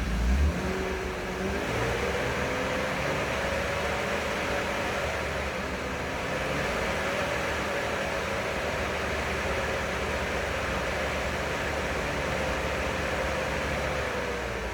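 BMW E36 328i with the M52 inline-six, idling steadily before the revs climb and hold around 2000 to 3000 RPM, a smooth continuous engine hum heard alone at moderate level.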